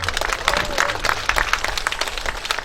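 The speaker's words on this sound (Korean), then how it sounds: "여러분들 큰 박수 한번 보내주시기 바랍니다." Applause from tourists and villagers at an outdoor seaside song festival at a harbor at sunset, a steady patter of many hands clapping at moderate distance, with no break.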